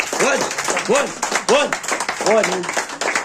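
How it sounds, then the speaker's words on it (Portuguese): A church congregation at a worship service claps together for Jesus, dense hand claps running steadily beneath loud overlapping voices that speak or sing throughout. "Vamos dar uma salva de palmas para Jesus"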